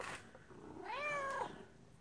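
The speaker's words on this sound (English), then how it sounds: "Oh my gosh, the cat is just going crazy." A cat meows once, a drawn-out rising and falling call, close and fairly loud, while getting excited over fishy salmon-flavored dog treats during an unboxing.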